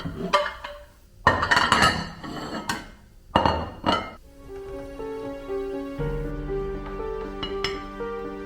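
Cooked egg fried rice scraped and spooned from a metal pan onto a plate, with sharp clinks and knocks of utensil on pan in the first few seconds, then quieter scraping and settling.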